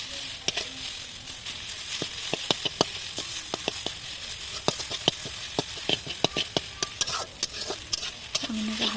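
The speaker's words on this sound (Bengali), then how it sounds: "চাউমিনটাকে হালকা হালকা করে ভেজে নেব তেল দিয়ে।" Chowmein noodles fry and get stirred in hot oil, a steady sizzle broken by repeated sharp scrapes and clicks of a utensil against the pan, with no talking.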